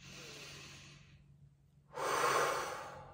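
Breath drawn in through the nose during a hand yoga exercise for the thumbs: a soft airy exhale fades out, a second of near silence follows, then a loud, close nasal inhale rushes in. Nobody speaks.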